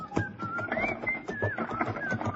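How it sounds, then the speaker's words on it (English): A man whistles a cheerful, bright melody while a frontier wagon is loaded, the tune rising and falling steadily over faint background clatter, with no talking. "whistled cheerfully as we loaded the wagon"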